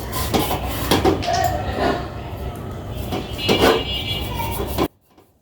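Someone scrubs heavy soot off a blackened cooking pot, giving repeated rough scraping and rubbing strokes with occasional metallic clanks, close by, ending abruptly in silence.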